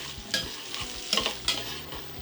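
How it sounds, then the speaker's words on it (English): Onions sweating in a hot pan for chicken curry, a soft close sizzle broken by a few quick stirring scrapes. "Immediately into the pan, add our onions and start sweating them."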